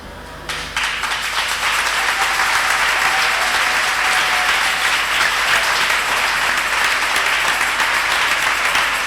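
Steady, dense applause fills a church service, a congregation clapping continuously and loudly after a brief quieter start.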